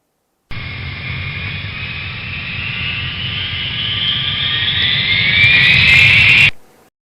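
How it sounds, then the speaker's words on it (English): An airplane's jet engine roars with a rising whine that climbs steadily in pitch and loudness over six seconds, near and continuous, then cuts off. "Plane."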